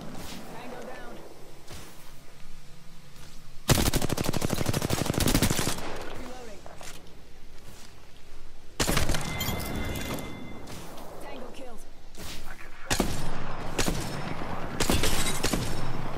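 Bursts of rapid gunfire in the Apex Legends battle royale game crackle loudly in several separated volleys over a steady background, with players talking over the action.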